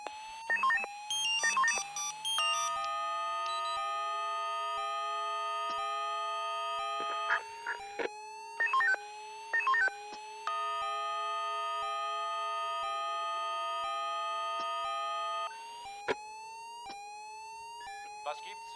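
Siren alarm in the firefighting game Emergency 4: electronic wailing and stepped warning tones, heard in two long, steady cycles separated by short bursts of chirping signals. The sound is loud and synthetic, with a faint low hum underneath.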